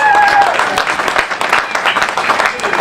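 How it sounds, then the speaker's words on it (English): Crowd applause at an outdoor Save Our Hospitals march in Southall, a dense wash of clapping and cheering held at steady loudness for a few seconds, with a whistle-like tone early on. "a big round of applause for all of you"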